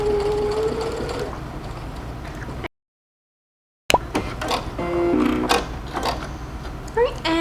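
A sewing machine stitches delicate fabric for a corset dress in short runs of rapid mechanical whirring, broken by a brief silent gap, with clicks and handling noises close by.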